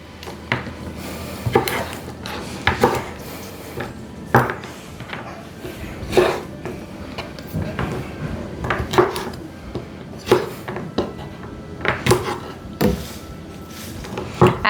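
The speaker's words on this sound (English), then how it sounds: "I am just gonna get this all chopped up really well" Knife chopping freshly picked garden herbs and garlic scapes on a cutting board, giving irregular close taps and knocks in loose bursts with no talk.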